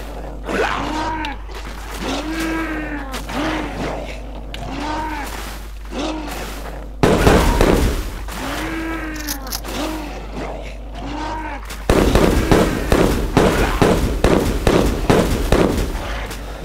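A bomb detonates in the online game Szone Online, rendered as repeated crackling, firework-like bursts with a low rumble, loud and close, sounding alone without talk.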